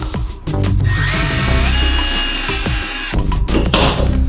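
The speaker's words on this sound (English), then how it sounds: "With the 3/32 drill bit, drill your first hole." A power drill fitted with a 3/32 drill bit whines loudly and steadily as it bores a hole while fitting underbody lights on a DeLorean, the motor note dipping briefly under load before spinning back up, close and alone.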